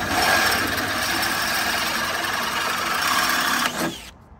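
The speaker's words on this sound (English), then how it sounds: "And I'm being very firm on the drill when I'm holding it." A power drill runs steadily at high speed while repairing the grill of a Mercedes-Benz Sprinter Winnebago, a constant whine that holds for about four seconds before cutting off abruptly.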